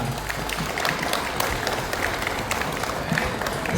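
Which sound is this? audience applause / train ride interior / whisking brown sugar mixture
audience applause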